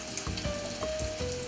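Oysters fry in hot oil in a pan with a steady, close sizzle and crackle, heard alone without talk.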